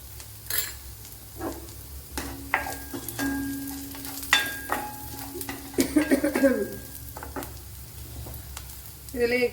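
Chilli flakes going into a pan of frying curry lemon pickle mixture, with steady sizzling and frying under intermittent stirring scrapes and a few light utensil clinks, heard close up.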